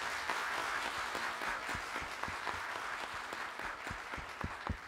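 Steady applause from a studio audience at a Turkish Mevlid recitation competition, greeting a contestant's score; dense, even clapping holds at one level for the whole span with no voices over it.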